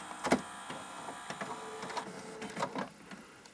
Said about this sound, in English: This thing has an all-in-one printer, fax, scanner, copier.